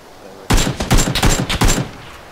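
Rapid bursts of gunfire from the video game PUBG, several close, loud volleys packed into about two seconds with brief gaps between them and no talk.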